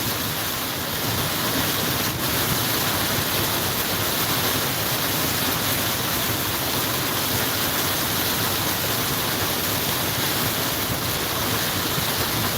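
Steady heavy rain pours down on a farm in the evening, a thick, constant hiss near and loud from start to finish, with no talking over it.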